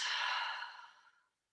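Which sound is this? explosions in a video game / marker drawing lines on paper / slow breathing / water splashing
slow breathing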